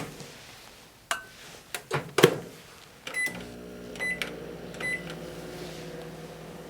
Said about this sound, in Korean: 전자레인지에 한 1분 30초 정도 돌려주면 잘 녹거든요.